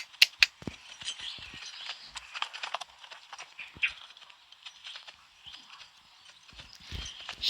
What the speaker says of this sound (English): let's have a look at this extended trot again